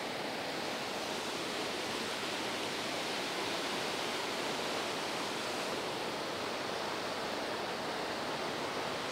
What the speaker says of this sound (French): On va vous montrer les rapides ici.